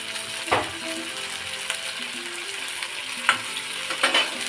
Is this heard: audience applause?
no